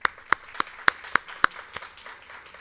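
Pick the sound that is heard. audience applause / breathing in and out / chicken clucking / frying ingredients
audience applause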